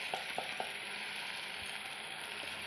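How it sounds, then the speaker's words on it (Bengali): Spice paste (masala) sizzling in hot oil for a duck-egg curry, a steady fry hiss with a few light stirring taps near the start, no voices. "এখন আমি মশলাকে ভালো করে ভেজে নেব যতক্ষণ না এর থেকে তেল বেরিয়ে আসে।"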